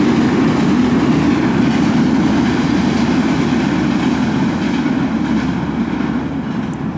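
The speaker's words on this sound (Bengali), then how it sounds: "ওই যে ট্রেন যাচ্ছে, ট্রেন দেখা যাচ্ছে" A train rolls past on a railway line beside a house in Bangladesh, giving a loud, steady rumble and clatter that lasts throughout, close by and alone without any talk.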